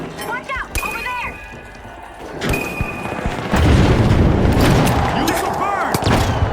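A grenade explodes in the shooter game The Finals: a deep, heavy boom lands midway, surrounded by chirping electronic pings, metallic clanks and scattered gunfire.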